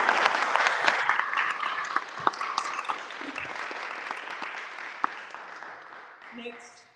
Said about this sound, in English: We miss you, but we'll clap for you.